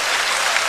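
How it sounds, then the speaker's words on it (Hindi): Brief burst of audience applause at a Hindi comedy poetry recitation, a dense steady patter of many hands clapping at moderate volume with no voices over it. "इधर से तालियां कम बज रही हैं"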